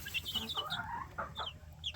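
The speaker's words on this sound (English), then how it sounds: "the big chickens have been picking on the baby chickens" Several chickens cluck and chatter close by in quick, overlapping bursts, with no talking.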